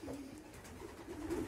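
Young racing pigeons cooing softly inside a loft, low murmuring coos close by and faint.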